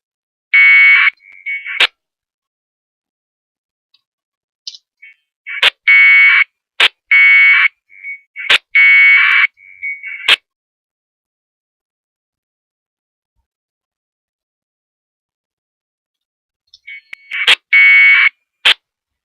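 MixW soundcard packet radio data tones for APRS play through a nearby speaker in short, loud warbling bursts. They arrive in clusters with silent gaps between them.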